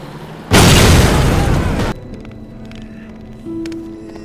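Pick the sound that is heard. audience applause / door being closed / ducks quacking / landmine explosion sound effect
landmine explosion sound effect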